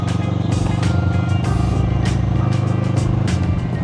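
A Kawasaki ER6n motorcycle being ridden, its engine droning steadily at a constant pace under rushing wind, loud and close throughout with no talking.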